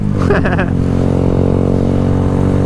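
A Honda Grom motorcycle engine lugs along at low RPM, a loud, steady, deep buzzing drone with a brief rougher burst at the start, heard up close while riding.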